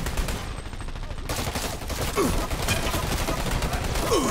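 Assault rifle fire in the video game Dirty Bomb rattles continuously in dense, rapid bursts across several seconds, loud and near, with game effects layered over the shooting.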